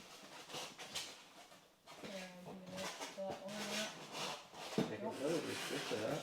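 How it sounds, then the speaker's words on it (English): Plastic and metal parts of a Magimix Cook Expert food processor being lifted out of packaging, with soft rubbing, knocking and clinking, plus light scraping, close up and under intermittent talk. "This bit's got a lot of attachments, so we're going to lift that out first and then I'll go through the attachments."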